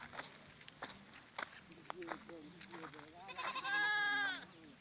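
A pregnant Gala goat on a farm bleats in a loud, wavering cry near the end, after soft footsteps and scattered earlier calls.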